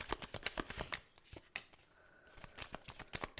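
Tarot cards being shuffled by hand, a run of quick soft riffling flutters and taps close to the listener, fairly quiet, with a brief lull partway through.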